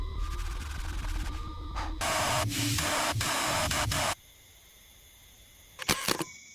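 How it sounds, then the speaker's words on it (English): Degreaser hisses in steady spray bursts onto the mud-caked underbody of a Porsche 918 Spyder, loud and close, with a few sharp knocks before it drops to a quieter hiss and some clatter near the end. "Now for the degreaser."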